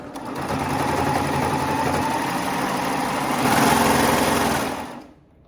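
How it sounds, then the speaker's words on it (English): A sewing machine stitching leggings closed runs in one steady close whirring burst that speeds up slightly near the end, then stops. "let's go ahead and sew this closed"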